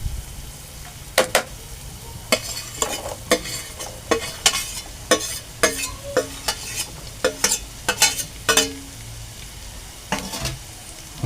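Green chili pieces stir-fried with softened onion in a pan, brisk bursts of clattering spatula strokes over a low sizzle, close and fairly loud, with no voices.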